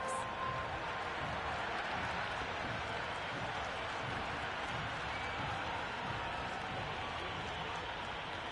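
A stadium crowd at an India versus South Africa T20 cricket match, a continuous distant roar of cheering and clapping that holds steady and fairly faint throughout.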